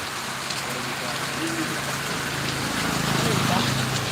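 Rain pouring during a motorcycle ride through Sumilang, Calauag, Quezon, a dense steady patter and hiss that swells slightly toward the end, with faint voices underneath.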